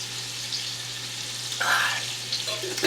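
Pot roast browning in a pan, a steady soft sizzle running throughout with a brief louder burst midway, fairly quiet and close.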